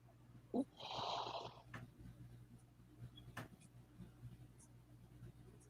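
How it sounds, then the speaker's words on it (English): Snoring sounds faintly in a quiet room, a snort followed by a longer raspy breath and a few softer wheezy bursts over a steady low hum, with no talking. "Why is there snoring?"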